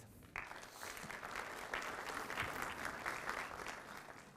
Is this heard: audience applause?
yes